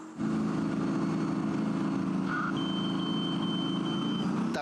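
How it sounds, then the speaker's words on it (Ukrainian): A tank's alarm system signalling a laser hit during battalion training maneuvers: a steady electronic tone that sounds continuously for several seconds over the loud, constant rumble of the tank's engine. "звучить система сигналізації, коли по танку влучає промінь машини супротивника"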